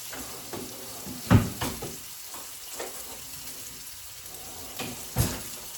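Whitetail deer liver and heart frying in a pan, a soft steady sizzle with a couple of sharper clanks of utensil against the pan, fairly quiet and without speech.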